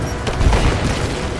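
Muffled gunfire in the video game Rise of the Tomb Raider, a short dull burst of booming shots heard close against a noisy rumbling background.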